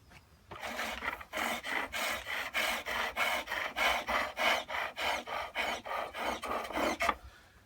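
Skew chisel shaving wood on a foot-powered pole lathe while turning a garden dibber handle: a steady run of rhythmic rasping cuts, each stroke pulsing in time with the treadle, close and alone for several seconds.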